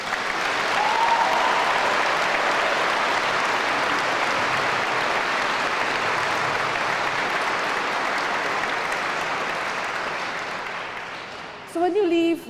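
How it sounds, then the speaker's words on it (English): Audience applause for the umpires at a European netball U17 championship presentation ceremony, a loud sustained crowd clapping that carries on for most of the stretch before tapering, with a brief voice cutting in at the end. "so a round of applause for them"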